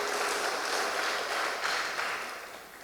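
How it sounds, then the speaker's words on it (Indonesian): A crowd at a school event claps for the two school principals, steady dense applause that swells and then gradually fades out. "Tepuk tangan untuk beliau berdua."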